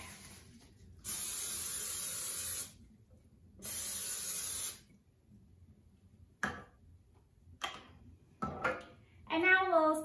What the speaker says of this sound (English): we're going to take this cooking spray and spray it all around the pan